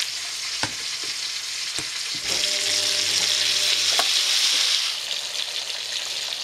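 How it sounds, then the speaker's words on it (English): Pierogi and a handful of olives frying in a very hot pan give a steady, loud sizzle that swells in the middle, with a few sharp clicks and bumps of the pan along the way. "We next add the pierogi and a handful of olives into a very hot pan."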